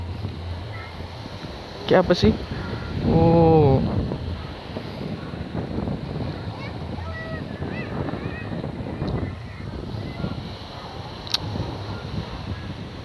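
Strong wind buffets the microphone at a beach, with a constant roar and a wash of surf underneath; people talk briefly over it and a higher tonal sound rises for a moment.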